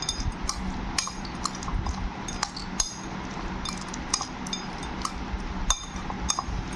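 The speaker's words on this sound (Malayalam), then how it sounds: "നന്നായിട്ടൊന്ന് ഇളക്കി യോജിപ്പിച്ച് കൊടുക്കും." A spoon stirs and mixes peanut masala in a pan, giving a steady run of light clinks and scrapes against the metal with a sizzling background, close and continuous.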